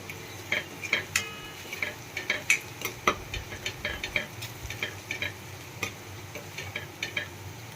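A spoon stirs chili powder and coriander-cumin powder into an okra curry in a pot, giving quick repeated clinks and scrapes against the metal over a faint sizzle, with nobody speaking.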